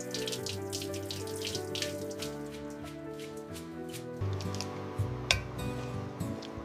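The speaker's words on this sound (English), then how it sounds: "A quick rinse before they hit the pan" Running tap water splashes steadily over fresh bamboo shoots at a kitchen sink, a continuous close rushing with small bumps and clatters as the shoots are turned under the stream, with no voices.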